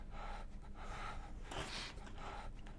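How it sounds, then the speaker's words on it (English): Heavy, ragged breathing from a character in a Ninja Gaiden 3: Razor's Edge cutscene, a run of loud, close gasping breaths that carry on through the whole stretch with no speech. "Enjoy that breathing."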